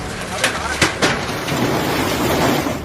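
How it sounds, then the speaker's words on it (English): A massive hailstorm in Lombardy, Italy, produces a dense, steady roar of ice striking surfaces, with a few sharp cracks of impact early on, loud and unbroken for the whole stretch. "Hail hell in Lombardy."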